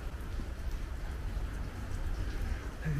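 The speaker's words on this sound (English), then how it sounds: "you can see how hard it's raining" Heavy rain hisses and patters across the whole clip in Hay Market Square, Szczecin, Poland, a dense wash of drops with no talking.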